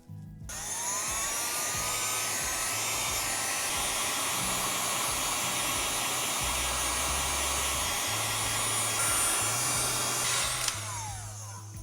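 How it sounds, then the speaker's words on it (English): A heat gun blows steadily, shrinking heat shrink tubing over a wire connector during ATV off-road light wiring; a loud, continuous hot-air roar starts abruptly, holds for about ten seconds and then cuts off. "now we're going to shrink on this last heat shrink tubing here"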